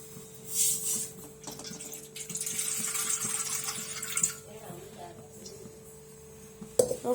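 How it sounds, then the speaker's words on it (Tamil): Tap water pours into a container in a home kitchen, a soft intermittent splashing with a faint background hum, fairly quiet and close. "இப்போ தண்ணி எடுக்கணும்"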